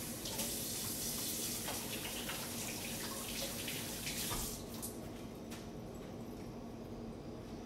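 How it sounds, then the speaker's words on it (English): A tap runs steadily as hands are washed, a close, full rush of water that thins and softens partway through, with no voices. "let me go ahead and wash my hands again"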